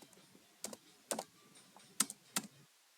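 Java code being typed on a computer keyboard: sparse bursts of keystrokes, a few separate clicks and short clusters with pauses between them, close and fairly quiet, with no talking.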